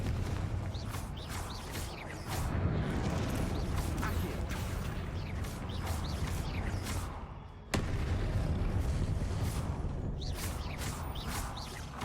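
Confringo explosive spells cast during a Hogwarts Legacy battle: a dense, continuous roar of booming blasts and crackling impacts, briefly dropping out before surging back just as loud.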